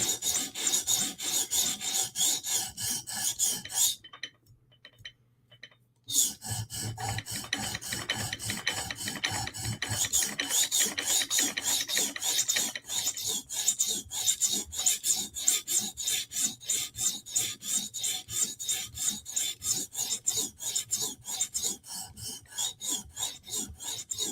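A Chris Reeve Sebenza Tanto knife blade is drawn across a sharpening stone toward a mirror edge, a close rasping scrape repeated in fast rhythmic strokes with a brief pause early on.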